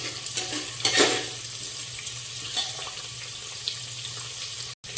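Onion sautéing in a pan with bay leaf and cashews for matar pulao, a low steady sizzle with a couple of brief stirring scrapes and a constant background hum.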